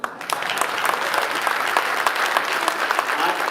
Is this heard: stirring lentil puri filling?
no